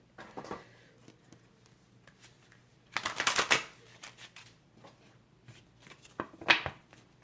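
A deck of Spiritual Messages oracle cards is shuffled by hand, giving two distinct bursts of crisp riffling and flapping card noise, close and fairly loud, with softer handling rustles between them.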